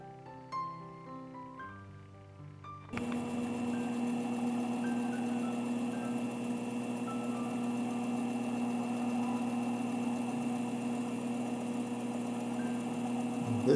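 A faceting machine grinds the table facet on a helenite gemstone. Musical tones play at first, then a steady motor hum with a faint grinding whine runs on evenly without talk.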